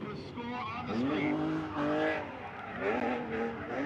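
A Nissan 370Z drift car circles a track during a drift qualifying run. Its engine revs rise and fall, with some tire squeal, mostly under a loud commentator speaking over it.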